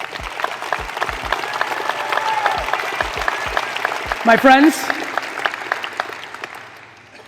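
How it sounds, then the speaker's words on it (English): A crowd applauds in steady, dense clapping that fades toward the end, while someone speaks over it. "I'm gonna let this get claps."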